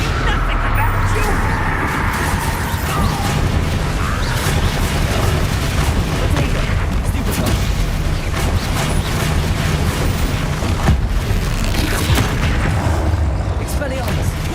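Spell explosions in the Hogwarts Legacy game, from Confringo and Bombarda, as a dense continuous barrage of booms and blasts mixed with mechanical clatter, loud and close throughout, with a voice talking over the combat.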